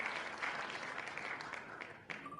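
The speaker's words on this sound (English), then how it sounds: "Dude, I love the clapping." Applause from a crowd rolls on as a dense, continuous wash of many hands clapping, heard slightly distant, with faint voices mixed in.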